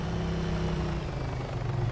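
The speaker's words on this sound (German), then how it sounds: "Hubschrauber." Helicopter flying nearby in the video game Arma 3, a steady low droning rotor hum with constant engine tone throughout, fairly loud and unbroken, with no voices over it.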